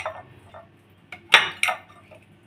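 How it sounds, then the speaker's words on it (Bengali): A knife trims the ends off pointed gourds in a home kitchen, making a few sharp, separate taps and clunks against a cutting surface with quiet pauses between them. "এখন দুই মাথা কেটে বাদ দিয়ে দিব।"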